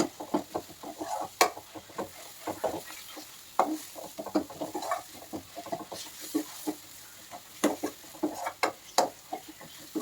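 Curry leaves fry in coconut oil while being stirred, giving a soft sizzle broken by quick, irregular utensil taps and scrapes against the pan, close by and unaccompanied by speech.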